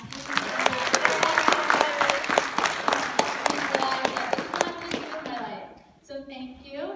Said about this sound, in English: if you guys could clap for Matthew